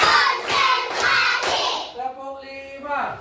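Children in a school physical education class clap in counted bursts, sharp group claps in short rhythmic clusters, with a voice counting out the numbers between them.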